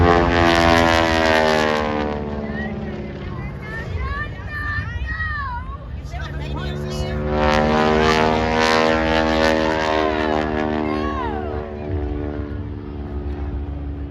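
Propeller airplanes fly at the Wings Over Winston air show, a sustained droning engine roar with shifting pitch that swells and fades, loud and continuous throughout, with crowd murmur beneath.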